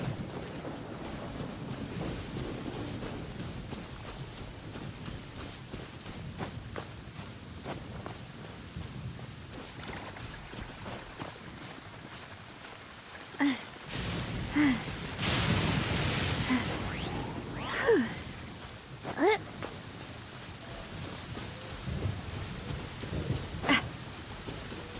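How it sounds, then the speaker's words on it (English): Rain and thunder in the video game Genshin Impact: a steady hiss of rainfall throughout, joined in the second half by several loud, sharp thunder cracks and rumbles, with no voices. "It's raining again."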